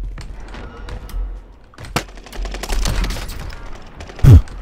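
Gunfire in the Warzone video game, with a JAK-12 shotgun firing slugs: scattered sharp reports and bursts at varying distances amid battlefield clatter, ending in one loud close blast.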